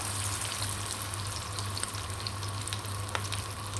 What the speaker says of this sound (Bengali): আমাদের তেলটা গরম হয়ে গেছে, এখানে এবার আমরা চিংড়িটা দিয়ে দেব।